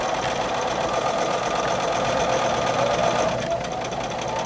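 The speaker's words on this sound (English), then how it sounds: "And then continue sewing around" A sewing machine runs continuously up close, stitching binding around the edge of a quilt with a fast, even mechanical whir that holds steady throughout.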